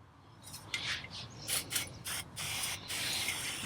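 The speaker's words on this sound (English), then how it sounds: "Get some good brake parts cleaner on that." Brake parts cleaner hisses from a spray can onto an oily KTM two-stroke power valve part, in several short, close bursts separated by brief pauses.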